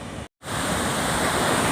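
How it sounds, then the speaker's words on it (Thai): Water roars through the seven open spillway gates of Pa Sak Jolasid Dam in Thailand, a loud, steady broadband rush that cuts out for an instant and then continues unbroken. "ประตูระบายน้ำทั้งหมดเจ็ดบานนะครับ ก็เปิดระบายน้ำนะครับ ดูคลื่นน้ำมากมายเลยนะครับ"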